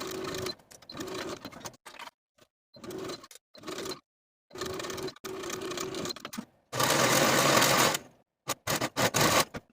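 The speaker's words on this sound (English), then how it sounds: "I'm going to be using my serger." A serger overlocks the shoulder seams of a silk dress in several bursts of whirring stitching, each a second or so long with short pauses between. A louder, denser run comes near the end.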